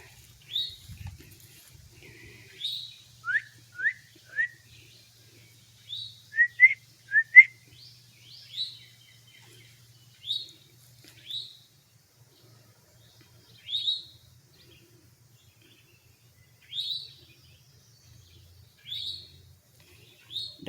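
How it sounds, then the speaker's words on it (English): Small birds sing outdoors on a forest walk, with scattered short, high chirps and whistled phrases coming in bursts and separated by quiet gaps, set against a faint low background hum. "Don't they just sound so pretty? I love birds. I love the sound, the singing they do."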